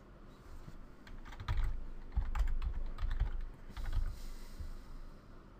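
A folder name is typed on a computer keyboard in a series of quick clicking keystrokes, some in short bursts and some single taps, close and clear with no talking.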